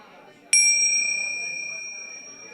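Chimes are struck once with a sharp, bright hit, then ring on with clear sustained tones that slowly fade over a quiet room.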